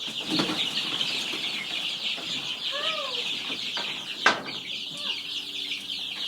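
Smoky pearl chickens clucking and calling nearby in a farm setting, with a rooster-like call, a brief wing flap and a sharp knock partway through, over steady ambient noise and no clear talk.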